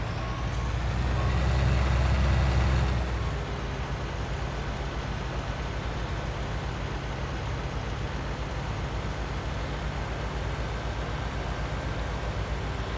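Road traffic in Farming Simulator 19: a steady low rumble of passing vehicles, louder at first then settling into a constant engine drone and road hiss, with no other sounds.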